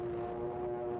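Enemy aircraft attack ships in a 1945 WWII combat newsreel, heard as a steady, loud engine drone with strong sustained tones over a dense rumbling roar, unbroken throughout and with no voices.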